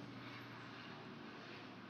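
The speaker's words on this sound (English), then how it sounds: "Why is that plane so low?" A low-flying airplane passes overhead, a steady, rumbling engine drone that stays fairly faint and unbroken throughout, with no talking.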